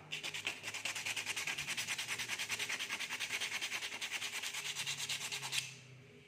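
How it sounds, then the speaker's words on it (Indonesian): Bamboo surface being sanded smooth for a bird feeding cup, a steady rhythmic rasping of back-and-forth strokes, close and continuous for several seconds before stopping abruptly. "Kita haluskan agar permukaannya rata, nanti jadi saat pengeleman, proses pengeleman bisa merata."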